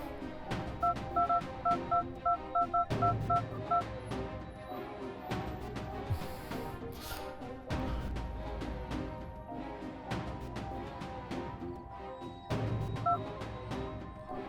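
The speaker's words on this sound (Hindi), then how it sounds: "उनका फोन तो रिंग हो रहा मगर कोई उठा नहीं रहा है।" A telephone keypad beeps through a series of dialing tones in quick bursts, repeated several times over a steady low ringing background, fairly faint with no voices.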